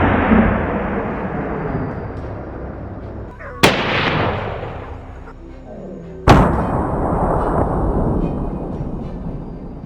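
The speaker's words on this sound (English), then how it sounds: "You see the dark shadows behind the tree. Boom! The gunshots are crisp." Hunting gunfire over a cornfield during a wild boar cull: two loud, sharp rifle shots a few seconds apart, each followed by a long booming echo that rolls away, with a lingering rumble from before the first.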